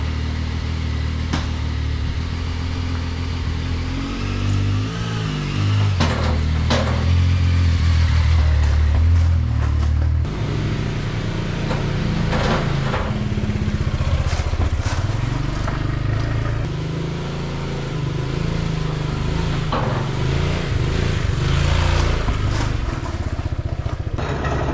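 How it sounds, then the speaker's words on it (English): A Zontes 703F motorcycle runs steadily through a test ride, its engine a loud continuous drone with brief rises in revs throughout, no talking. "So the 703 is done and the sun's come out, so it's time to get some test rides under my belt."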